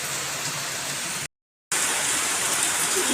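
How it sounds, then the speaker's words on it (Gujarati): Heavy monsoon-onset rain in Rajkot roars as a dense, steady hiss with strong wind, broken by a brief total silence before the downpour resumes at full strength. "આ ધોધમાર વરસાદ ચાલુ થઈ ગયો છે"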